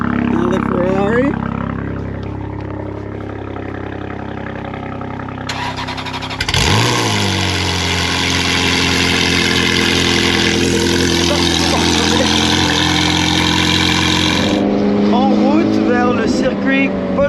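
A cold Ferrari 458 Challenge race car at Circuit Paul Ricard fires up with a sharp starter catch and settles into a loud, rough, high-revving idle that holds steady for several seconds before dropping lower, with people talking nearby.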